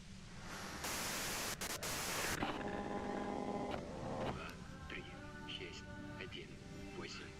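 Harsh white-noise static from the video game Disco Elysium hisses steadily and loudly, with faint tonal electronic sounds and murmuring behind it.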